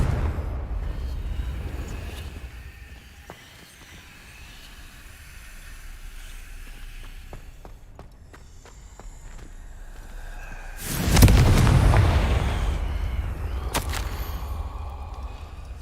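Confringo blasting spell in the Hogwarts Legacy video game, going off as a sudden loud burst that rumbles and hisses for a few seconds over a quiet ambient background, followed by lingering rumble.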